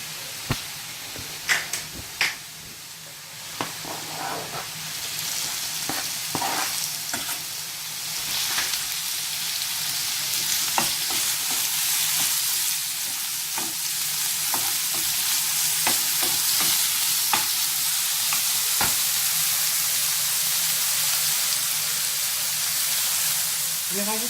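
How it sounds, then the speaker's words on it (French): Beef sizzles and fries in a small pan with olive oil, a steady broadband crackle filling the whole stretch, with scattered sharp clicks of stirring and utensil taps close up, no voices. "Une petite poêle pour faire revenir mon bœuf. Je rajoute un petit peu d'huile d'olive."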